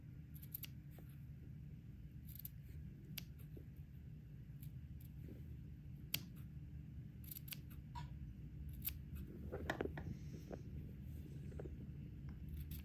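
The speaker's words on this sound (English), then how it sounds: "I'm going to trim the sleeve also so that the fabric will" Scissors trim a fabric sleeve at the curve of an armhole, with soft, sparse snips over a low room rumble, faint and close.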